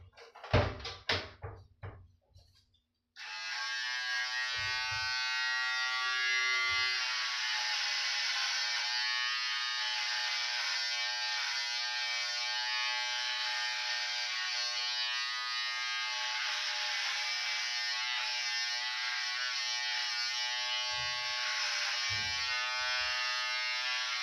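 A UFREE 6-in-1 electric hair trimmer switches on after a few handling knocks and runs with a steady, close, high-pitched motor buzz that holds constant to the end.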